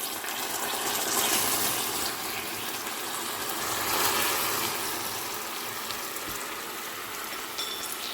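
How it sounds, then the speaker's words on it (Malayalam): A quarter cup of water goes carefully into boiling sugar syrup in a pan for a jackfruit cake, making a steady, close gushing and bubbling rush that swells and eases over about eight seconds, with no voices. "ഇനി നമുക്ക് ഇച്ചിരി കെയർഫുള്ളായിട്ട് ഇതിനകത്തോട്ട് 1/4 കപ്പ് വെള്ളം കൂടെ ആഡ് ചെയ്യാം"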